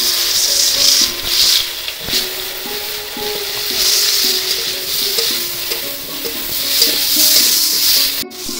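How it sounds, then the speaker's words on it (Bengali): Sliced okra fries loudly in a pan, a close, continuous sizzle with bursts of hissing spatter and occasional stirring knocks, and no talk. "প্রথমে ভেন্ডিগুলো ভেজে নেব।"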